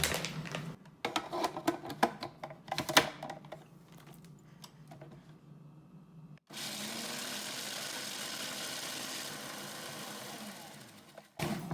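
A food processor grinds pesto ingredients down fine, a steady loud whirring drone that runs continuously for several seconds before cutting off abruptly, preceded by clattering handling noises.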